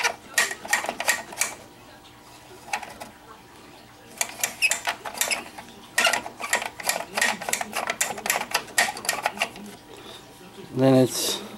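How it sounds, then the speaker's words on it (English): A plastic toy crane winch on a G.I. Joe U.S.S. Flagg playset gives off bursts of rapid ratcheting clicks, close and separated by short pauses, with a voice talking in between. "The crane here. Goes up and down. It's got a winch mechanism."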